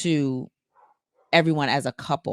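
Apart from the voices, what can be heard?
dog barking in the background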